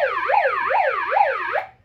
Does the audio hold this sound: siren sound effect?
yes